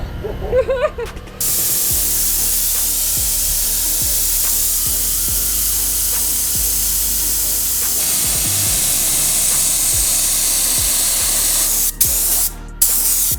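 A racecar is spray painted in a garage, a loud, continuous close hiss from the spray gun that runs almost without break, with short pauses at the start and end.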